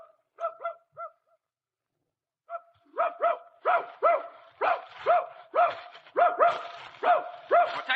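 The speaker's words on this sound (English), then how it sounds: "Hey, dog, Hap!" A radio theatre sound effect of a hunting dog barking: a few quick yaps, a pause, then a steady run of eager barks close by, growing busier toward the end.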